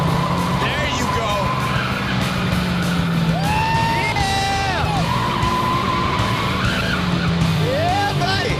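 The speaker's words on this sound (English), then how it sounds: "Ollie stepped on the gas pedal and he's burning rubber. The tires are screeching and there's smoke everywhere." Car tires screech loudly while burning rubber, with repeated wavering squeals rising and falling over a roaring engine and rumble, and a voice yells amid the noise.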